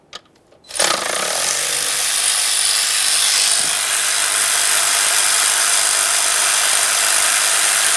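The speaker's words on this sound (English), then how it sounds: "Now let's go ahead and get that last mounting bolt right up along the top." A power tool loosens the last intake mounting bolt on a 2015-2020 Ford F-150 3.5L V6, starting after a brief pause and then running as a loud, continuous, close whir for several seconds.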